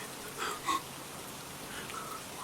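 Heavy rain in an animated street scene comes through as a faint, steady wash of hiss with a couple of slightly louder splashes early on, and no speech.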